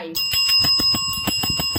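A small bell rung for good luck gives a bright, sustained ringing tone struck repeatedly in quick succession, loud and close, with no voices.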